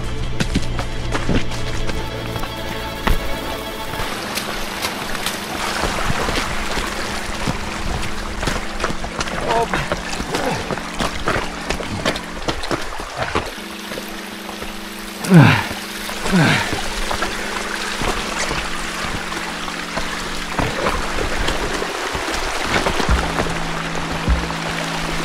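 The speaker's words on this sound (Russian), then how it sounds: "и река такая мелкая стала" A shallow mountain river flows with a steady, rushing wash, partly buffeted by wind noise, while a voice speaks over it.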